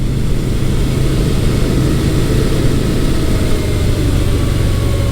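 A motorcycle engine runs steadily during a ride, a 2017 Yamaha SCR950 or a 1983 Suzuki GS1100, with a loud, continuous low rumble and no voices.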